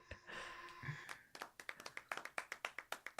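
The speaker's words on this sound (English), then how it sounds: "I found the most tepid applause I could" Thin, tepid applause from a soundboard effect: a handful of sparse hand claps that quicken into a steady, evenly spaced patter, close and fairly quiet, with a brief murmur of voices at the start.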